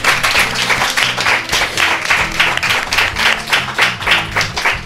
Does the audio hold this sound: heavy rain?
no